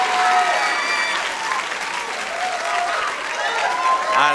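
A 1980s studio audience on The Price Is Right gives a long, loud burst of clapping and cheering. It sustains evenly from start to finish, with scattered whistles riding over the applause.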